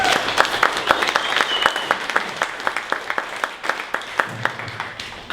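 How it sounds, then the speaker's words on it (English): Conference audience at a pitch event gives a round of applause, a dense run of many hands clapping with sharp repeated slaps, steady and fairly close, tapering slightly toward the end. "Round of applause."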